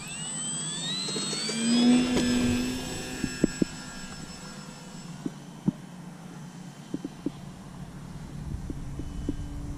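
Jet engine roar and whine of an airplane coming in to land on landing flaps in gusty wind, a steady mid-level drone that swells briefly and then settles, with scattered sharp clicks and knocks over it.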